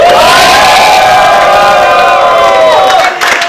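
A studio audience on a TV comedy show shouts together in one loud, sustained roar of cheering and whooping that holds steady before tapering slightly at the end.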